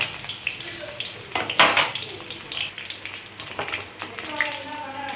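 Sizzling and crackling of onions frying in a pan, with scraping stirs and a few clatters, fairly close and continuous.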